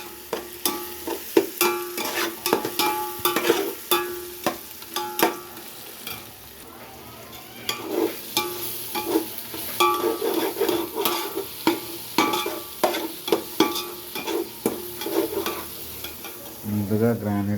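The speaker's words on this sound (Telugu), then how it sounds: "అన్నీ వేసిన తర్వాత ఇలా కలుపుతున్నాం." Biryani masala and chicken stirred in a pan, repeated scraping and knocking strokes in an uneven rhythm over a continuous frying sizzle, close and clear, with a brief pause midway and no talk.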